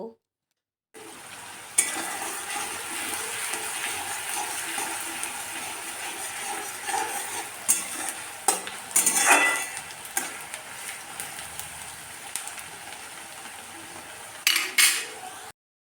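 Three large chopped onions frying in oil over a high gas flame, a continuous sizzling hiss with scattered bursts of louder crackling and a few utensil clinks against the pan.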